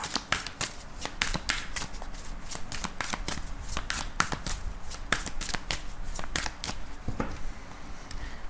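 A deck of tarot cards is shuffled close by, giving continuous rapid riffling flicks and crisp snaps with a few louder slaps, steady for several seconds.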